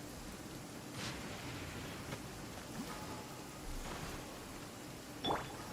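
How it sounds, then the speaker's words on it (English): Steady rain falls in Genshin Impact, a soft, even hiss of moderate loudness with a few faint brief splashes and chimes over it and no talking. "I can't cook over here because it's raining."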